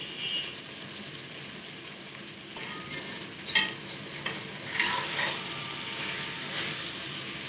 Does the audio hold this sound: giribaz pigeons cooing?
no